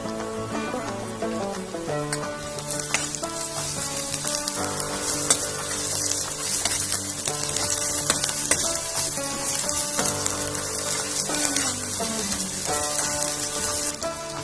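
Garlic, ginger and green chili sizzle and crackle loudly in hot oil for a daal tadka, a dense continuous frying hiss with no voices.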